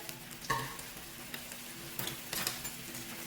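Fish pieces and cucumber sizzle in a hot pan as sweet and sour sauce is poured in for a Chinese dish, with steady frying hiss and a few scraping stirs of the utensil, close and without speech.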